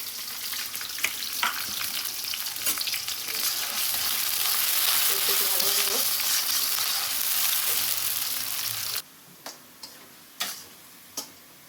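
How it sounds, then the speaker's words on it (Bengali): Onions fry in oil in a pan with a continuous, close hiss and crackle. The sizzle then drops away, leaving a few sharp taps and clicks. "পেঁয়াজটা ভাজা ভাজা হয়ে গেছে"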